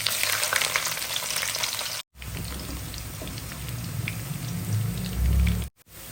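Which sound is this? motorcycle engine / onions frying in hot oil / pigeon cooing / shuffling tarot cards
onions frying in hot oil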